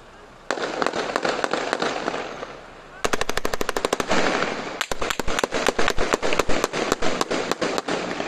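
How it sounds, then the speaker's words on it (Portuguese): Loud machine gun fire rattles out in several long, rapid volleys during a bank robbery in Blumenau, Brazil, each burst a dense string of sharp cracks over outdoor background noise. "Ó, tiro de metralhadora."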